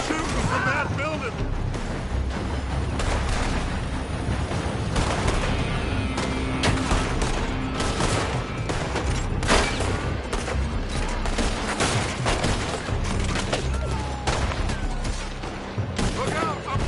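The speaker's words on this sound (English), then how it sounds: "They're shooting from that building." Dense gunfire in the video game Red Dead Redemption 2, with shots cracking from a building in overlapping bursts and volleys, loud and sustained throughout, mixed with game voices speaking.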